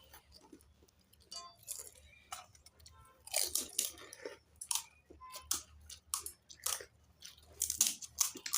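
Loud crunchy chewing of homemade phuchka, irregular bites and crunches close to the mic, growing busier toward the end over a quiet room.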